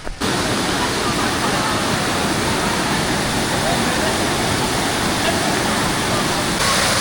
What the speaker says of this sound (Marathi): हे बघा खाली गुप्त भीमा नदी ही वाहत आहे